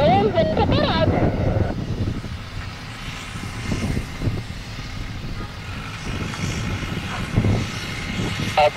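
A Gol airliner rolls into its takeoff at Santos Dumont airport, a loud steady jet engine roar filling the whole stretch with people talking over it.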